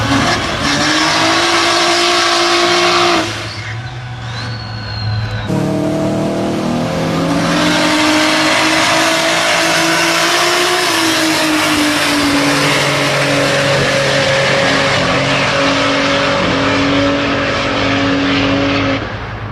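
A BMW N54-engined drag car with a slipping torque converter holds a steady high rev, a loud sustained engine drone lasting the whole stretch with a brief dip early on, no talking.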